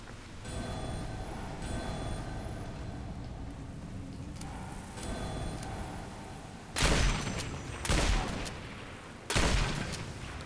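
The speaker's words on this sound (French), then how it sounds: "il suffit tout simplement de s'équiper du fusil à pompe" Pump shotgun firing in the Lara Croft and the Temple of Osiris video game, three loud close blasts spaced a second or two apart, following a stretch of quieter game ambience.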